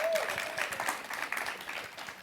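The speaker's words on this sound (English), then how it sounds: "Can we applaud that, everybody?" An audience at a Black History Challenge competition claps together in a dense, steady round of applause lasting the whole moment, with voices mixed in beneath it.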